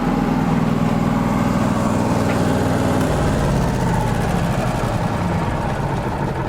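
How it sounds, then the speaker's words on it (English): Miller Trailblazer 325 engine-driven welder running, a steady, loud, close engine drone with a low throbbing hum that holds constant throughout, no voices. "off of a spool gun, off of an engine-driven welder"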